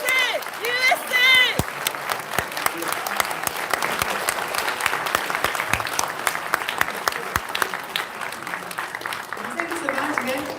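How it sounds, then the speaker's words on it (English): A crowd applauds at a conservative political lecture, steady clapping with sharp individual claps standing out, and a voice speaks over the start and again near the end. "So just give him a big hand of applause again."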